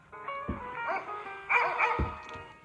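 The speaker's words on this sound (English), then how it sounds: "posting footage of their neighbors barking Great Pyrenees onto YouTube" Several deep, loud Great Pyrenees barks in quick succession, booming and close, with a few overlapping yips between them.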